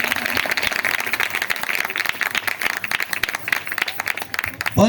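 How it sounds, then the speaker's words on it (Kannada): A church congregation claps loudly together in a dense, continuous burst of rapid, overlapping hand claps lasting a few seconds. "ಚಪ್ಪಾಳೆ ತಡಿ ಜೋರಾಗಿ"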